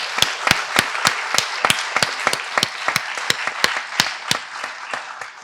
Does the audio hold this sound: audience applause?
yes